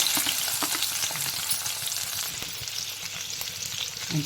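Pieces of goat brain fry in hot oil with a dense, bright close sizzle and light stirring throughout. No voice is heard.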